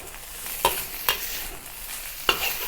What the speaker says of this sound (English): now I start to fry the rice at the medium heat to make it even drier